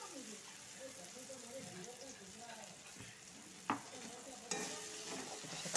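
Cumin and coriander powder fry with tomato and ginger while a spoon stirs and scrapes the pan, a low continuous sizzle with a couple of sharper clinks near the end.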